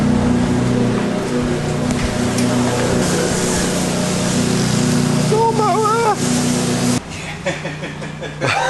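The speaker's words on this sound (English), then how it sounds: "So that's someone mowing the lawn." A lawn mower running outdoors, a loud steady engine drone filling the whole stretch, with a brief chirp of birdsong near the end as the motor noise drops slightly.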